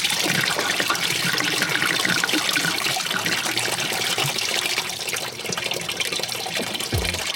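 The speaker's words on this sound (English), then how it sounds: "Okay, the coolant has now been emptied" Coolant draining from the engine of a barn-find Porsche, a continuous trickling, splashing flow of liquid heard close up for several seconds without talk.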